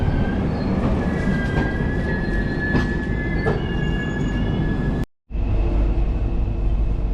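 The Saharsa clone Humsafar train runs with a loud, continuous rumble of wheels on rails, a sustained metallic squeal and occasional clatter. A brief dropout breaks it before the noise resumes.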